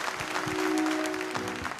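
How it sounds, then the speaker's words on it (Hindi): Steady applause from a crowd, dense and continuous, with a faint sustained tone underneath throughout. "जोरदार तालियां हो जाएं हमारे विनर के लिए।"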